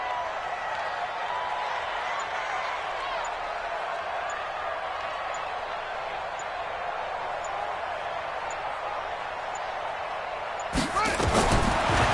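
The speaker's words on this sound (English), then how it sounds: "The crowd getting into it as we come up on a big 3rd down." Stadium crowd in an American football video game building up before a big third down, a sustained roar that holds steady, then a burst of louder noise near the end.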